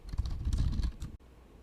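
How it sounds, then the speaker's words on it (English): Rapid keystrokes on a computer keyboard while entering a command in a command prompt window, a close, dense burst of clicks lasting about a second before stopping abruptly into quiet room tone. "you will type in Jupyter Notebook."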